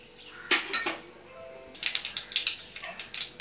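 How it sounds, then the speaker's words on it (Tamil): Mustard seeds spluttering in about two spoons of hot oil for tempering, giving a close run of sharp crackling pops and clicks that grows busier toward the end. "இப்போது கடுகு வெடிச்சிருச்சு,"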